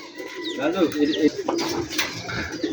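Rajshahi Giribaz pigeons coo in a steady, soft murmur at close range, with faint background voices mixed in.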